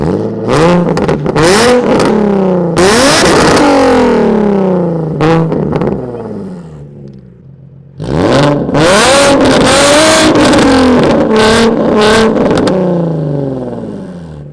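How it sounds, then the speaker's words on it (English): A Nissan 350Z fitted with a Tomei exhaust and test pipes revs loudly in repeated sharp blips and sustained pulls, with a brief lull before another run of aggressive revs. "Tomei with the test pipes going loud"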